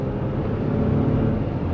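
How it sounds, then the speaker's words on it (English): A 2023 Ford F-150 XL pickup with a 2.7L twin-turbo V6 accelerates, its engine a steady, loud low rumble with broadband road and cabin noise heard from inside, continuous with no talk. "But let's give it a little bit of gas here."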